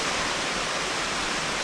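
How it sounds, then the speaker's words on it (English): A giant cascading waterfall roars steadily at close range, a dense unbroken rush of falling water with no other sounds and no voices. "there is a giant cascading waterfall right here"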